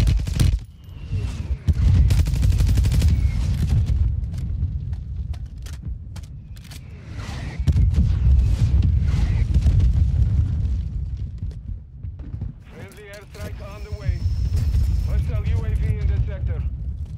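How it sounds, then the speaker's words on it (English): Mortar strike explosions in a battle royale video game roll through as repeated deep booms and rumbling blasts over about seventeen seconds, with gunfire crackle and game voice callouts mixed over the top. "Mortar strike inbound."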